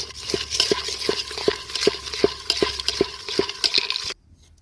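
Thick grape sweet mixture stirred in a pot, a spoon scraping the bottom in a steady rhythm about every third of a second, close and fairly loud, ending abruptly.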